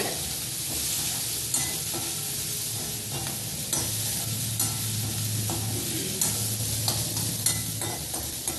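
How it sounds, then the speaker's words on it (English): Onions frying in oil in a pan for rava upma, a steady close sizzle with occasional spoon scrapes and stirring knocks spread through, no talking. "Next, I add this onions, which I have already kept ready."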